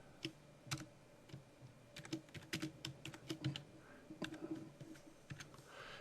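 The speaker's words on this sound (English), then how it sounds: "And I'm going to type in" Irregular clicks of keys on a computer keyboard come in quick clusters and short pauses, close and fairly quiet, with no voices over them.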